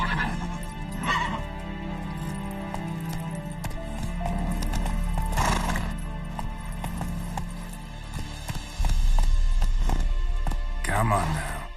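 Horse named Roach galloping and neighing, with hoof clip-clop and whinnies amid a busy game-like scene of music and effects, and a voice speaking over it.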